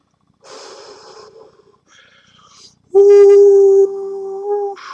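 A person imitates a wolf: a few breathy snorts and soft whimpers come first, then a loud, sustained vocal howl holds one pitch before dropping slightly and trailing off.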